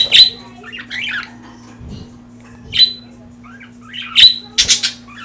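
Breeding budgies make sharp squawks and quick chirps in scattered bursts, close and loud, over a steady low electrical hum.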